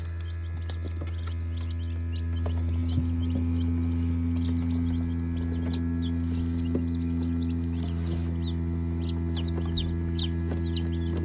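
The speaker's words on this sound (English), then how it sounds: "Got little chickies hatching." Baby chicks hatching in an incubator peep softly and cheep in scattered short calls over the constant hum of the incubator's motor.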